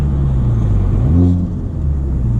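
A turbocharged car engine rumbles steadily, then a brief fluttering turbo whoosh as the revs drop, followed by the engine droning on.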